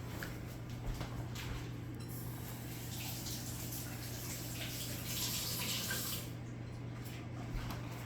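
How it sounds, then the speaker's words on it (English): Tap water runs steadily while hands are washed at a sink after mixing sourdough. A continuous close splashing hiss fills the whole stretch over a low steady hum, changing slightly as the hands move under the stream. "I'm gonna pause, go wash my hands,"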